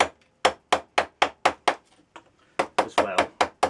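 Sharp, evenly spaced wooden knocks from a mallet or hammer, about a dozen in quick rhythm with a short pause, as shallow joints are cut into a wooden pole lathe treadle frame for the cross members.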